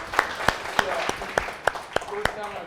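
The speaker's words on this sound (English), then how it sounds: "Yes, a round of applause for Pat, please, guys." An audience at an awards presentation claps. The sparse, distinct claps have a fairly regular rhythm and sound moderately close, with soft background murmur and no continuous talking over them.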